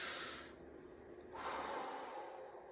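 A person draws in a slow, airy breath through the mouth while squatting slightly during an exercise, a soft close hiss that rises and then settles, with no talk.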